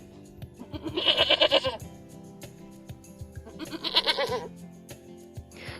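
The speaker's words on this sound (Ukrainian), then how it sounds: "Отже, це коза." Two loud, wavering goat bleats, each about a second long, separated by a short pause, close and clear over faint background noise.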